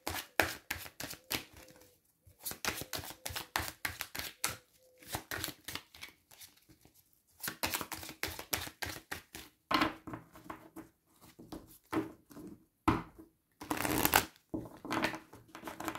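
Tarot cards being shuffled and drawn give close, crisp riffling clatters in repeated bursts, broken by short pauses and a few soft slaps and flicks of single cards.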